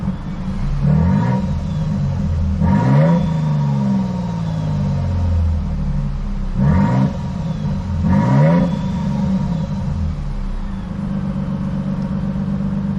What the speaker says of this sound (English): It's got a TRD exhaust on it, which adds that nice little extra burble when you need it